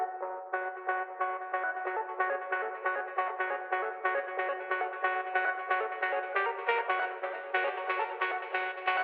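Analog Lab synth preset gradually filtered open with SSF, a bright, buzzy chord pulsing in rapid even repeats that steadily grow fuller over about nine seconds, heard alone.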